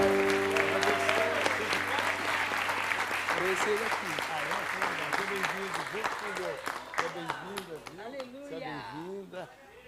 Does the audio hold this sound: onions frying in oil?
no